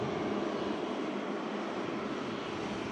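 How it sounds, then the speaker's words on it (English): A Singapore Airlines Airbus A350 airliner near Manchester Airport gives off a steady, broad jet roar, even and unbroken across a few seconds. "Beautiful Singapore Airlines Airbus A350. One of the best looking airliners out there"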